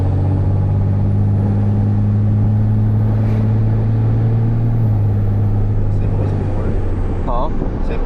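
A diesel engine holds a steady, loud throttle with a deep droning rumble, easing off near the end, with no voices over it.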